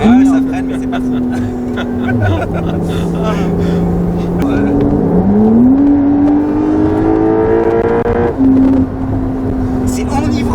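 A Porsche 911 GTS accelerating hard, its engine note rising and falling through the gears in loud, steady revving sweeps, with people talking over it from inside the car.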